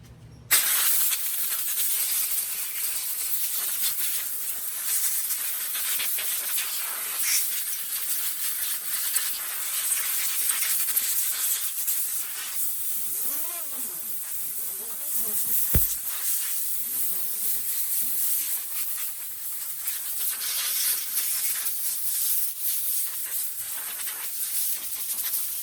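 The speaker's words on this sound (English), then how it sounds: "pick up a little compressor and a little air gun and a hose" A small compressor-fed air gun blows air for cleanup, a steady, bright, continuous hiss lasting throughout with a slight fluctuation and a few brief knocks near the middle.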